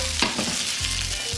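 Brussels sprouts sizzling in a hot pan as they are stirred around, a loud close fry with a few scraping knocks of the spoon.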